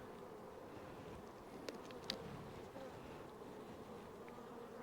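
A soft, continuous buzz of many honey bees from an open hive being inspected hums steadily in the background, with a couple of faint clicks, no voices.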